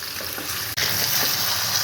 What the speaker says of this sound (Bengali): আস্তে আস্তে এইভাবে নাড়াচাড়া করবো আমি মশলাটা ভালো করে মিশিয়ে নেব চিকেনের সঙ্গে